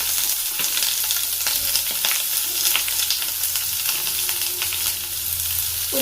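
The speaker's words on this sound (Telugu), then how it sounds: "ఆయిల్ వేడెక్కితే ఫస్ట్ మీ దగ్గర ఉన్న కొంచెం కరివేపాకు బాగా ఫ్రై అవ్వాలి." Curry leaves frying in hot oil for tomato curry, a loud continuous crackling sizzle with scattered pops and occasional stirring scrapes, close up and steady throughout.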